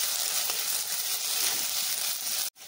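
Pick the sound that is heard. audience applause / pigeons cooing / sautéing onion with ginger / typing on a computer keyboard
sautéing onion with ginger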